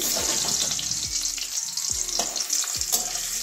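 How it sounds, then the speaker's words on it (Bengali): Boiled new potatoes coated in turmeric fry in oil in a pan, giving a close, continuous sizzle broken by repeated sharp scrapes of a spatula stirring them, with no talking. "আলুটাও একটু ভেজে নিচ্ছি, সিদ্ধ করা হয়েছে তাও একটু ভেজে নিচ্ছি।"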